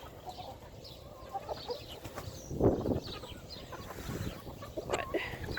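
Chickens eating breakfast outdoors cluck and murmur softly, with a few louder squawks and light rustling against a faint background.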